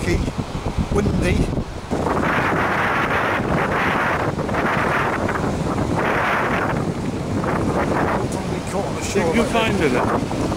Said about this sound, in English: rough, rocky, windy.